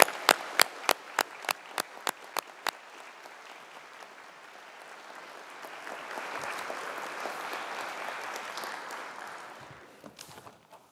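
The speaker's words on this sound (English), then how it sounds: "let's give this fantastic group of people a big round of applause collectively" Audience applause at a university graduation ceremony, opening with a run of sharp, evenly spaced single claps that builds into a sustained, dense wash of clapping from a large crowd before tapering off near the end.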